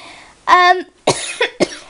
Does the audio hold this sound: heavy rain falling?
no